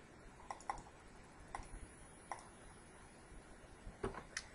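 Several quiet, sparse clicks of computer keyboard keys being typed, a few isolated keystrokes spread out over a soft background hiss.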